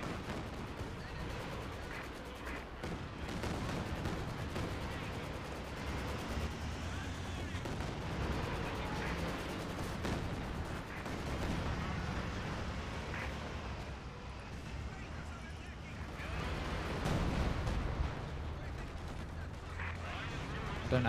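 Artillery barrage in a multiplayer war video game, a steady run of booming blasts and gunfire rolling on without a break at close, loud level, with team voice chat over it.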